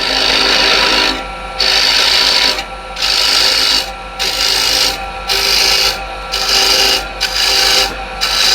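Rasping, scraping cuts from a woodturning scraper on spinning wood, coming in repeated passes of about a second each with short gaps between, loud and close.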